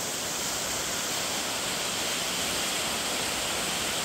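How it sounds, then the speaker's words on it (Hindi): Demul waterfall in Odisha sends water rushing through a rock cleft, a steady loud broadband roar that fills the whole stretch without pause. "देखिए पत्थर फाड़ के जो है पानी आता है अंदर,"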